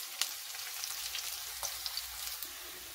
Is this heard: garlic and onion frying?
yes